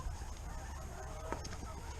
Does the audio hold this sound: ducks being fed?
yes